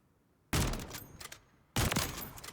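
Two loud, close gunshots from a rechambering weapon in Call of Duty Modern Warfare III, each a sharp crack with a decaying tail, about a second apart and alone.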